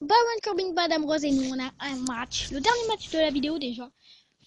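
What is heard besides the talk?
No everyday noise stands out behind the speech.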